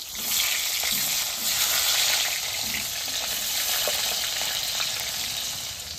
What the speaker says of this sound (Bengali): এবার আলুটাও আমরা হালকা করে একটু ভেজে নেবো।